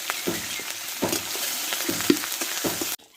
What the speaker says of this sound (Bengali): ভালো করে ভেজে নেব অল্প একটু হলুদ করে দেবো